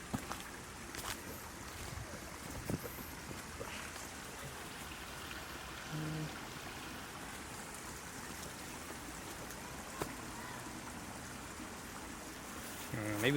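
Steady splashing and rushing of shallow stream water during a hike through it, a continuous wash close by with occasional louder splashes and no voices.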